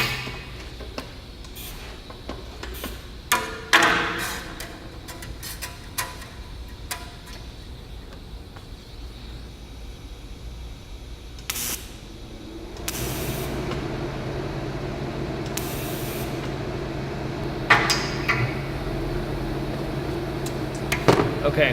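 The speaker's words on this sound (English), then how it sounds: "as soon as I strike the arc, my welder turned on. The fan turned on." A newly installed TIG welder clicks on as the arc is struck, and its cooling fan starts with a steady, broad whooshing hum that runs through the second half. Scattered clicks and clatter come before it.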